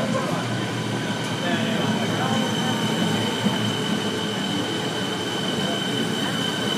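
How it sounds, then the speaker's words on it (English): A Siemens suburban train on a Craigieburn service pulls into platform 3 at Melbourne Central underground station, a loud steady rumble of wheels and motors with faint squeal echoing under the platform roof throughout. "We have a Siemens arriving onto platform 3."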